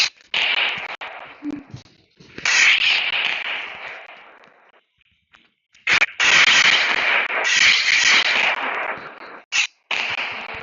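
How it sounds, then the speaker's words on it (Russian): Bursts of crackling explosions and pops come in dense waves with short quiet gaps between them, loud and close, like a fireworks display in a game. "Сейчас будет супер салют."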